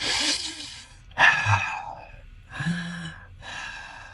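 Slow meditative breathing, several unhurried audible inhales and exhales in sequence with short pauses between, close and fairly soft, with no talking.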